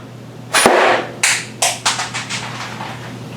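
A homemade pine blowdart fires with a sharp burst of air, then the dart clatters and bounces in a run of quick knocks that fade in strength.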